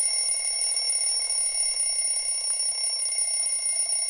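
A morning alarm clock rings without a break, a loud, steady electronic trill that holds at the same level throughout, with nobody speaking.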